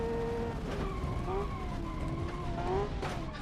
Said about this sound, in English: oh, listen to that brake noise